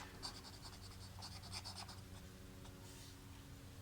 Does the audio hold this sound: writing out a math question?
yes